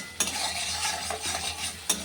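Ginger and spices are stirred and fried in a pan for a light taro and fish curry: a steady close sizzle with scraping stirs and two sharp utensil clinks near the start and end.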